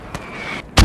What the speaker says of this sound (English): they just fired an RPG at us